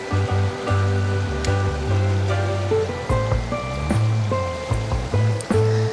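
A small trout stream ripples and burbles over stones right up close, a steady bright watery flow with little splashes throughout.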